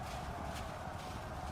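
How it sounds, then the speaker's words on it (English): Horses galloping as a sound effect in a dark-fantasy tabletop role-playing battle scene, a continuous rumble of hoofbeats blended with a dense, steady background wash. "you see Commanders Rahadin and Willem galloping off towards their assignments"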